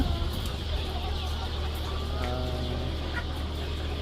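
Chickens and roosters cluck steadily in a new poultry coop, their calls layered over a constant low hum throughout.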